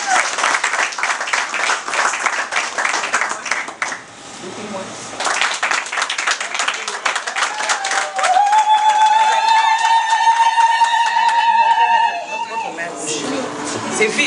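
Guests at a civil wedding ceremony break into loud, sustained clapping close by, mixed with crowd chatter and a few cheers, swelling and continuing for many seconds.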